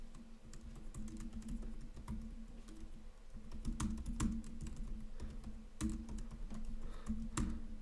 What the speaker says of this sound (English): Working on the typing tonight